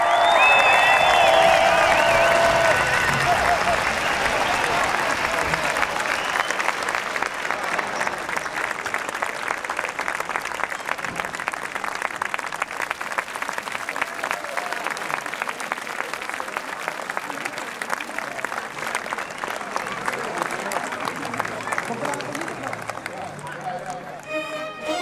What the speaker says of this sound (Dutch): Geef hem een keihard applaus.